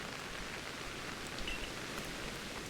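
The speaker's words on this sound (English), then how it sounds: "And wonderful, it's raining." Rain falls steadily in Pokemon Legends Arceus, a faint, even hiss of drops with no distinct individual splashes and no voices.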